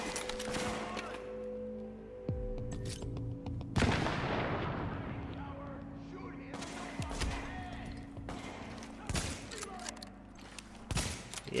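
Gunfire in Tom Clancy's The Division, with sharp reports and bursts of shots scattered through a busy combat soundscape, one heavier blast standing out, and voices talking over the fighting.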